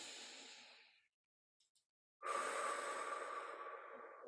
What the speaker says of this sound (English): Again, inhale.